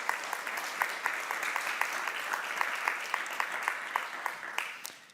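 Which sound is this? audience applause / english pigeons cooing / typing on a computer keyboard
audience applause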